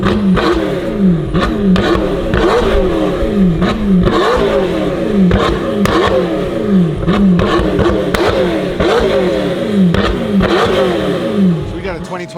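A 2022 McLaren GT with a stage 2 ECU tune and full exhaust kit revs repeatedly, loud and close, each sweep rising and falling in a regular rhythm with crackles between pulls.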